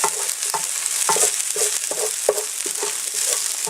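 Onions frying in a pan and being pushed aside with a utensil, sizzling steadily while repeated scraping strokes sound close up at a fairly even rhythm.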